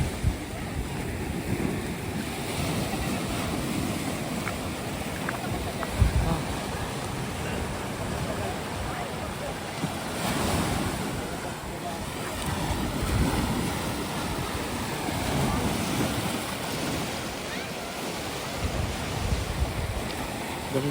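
Sea waves wash continuously onto a sandy Cornwall coast at high tide, a steady broad surf roar with wind buffeting the microphone throughout.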